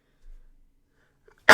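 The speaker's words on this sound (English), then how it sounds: "apologies, I have to sneeze." One sharp, loud sneeze right up close, bursting out at the very end after a stretch of near silence with only a faint breath before it.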